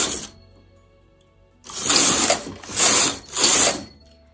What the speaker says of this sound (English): we're going to knit two rows within those needles, and continue to do so for as many needles as you like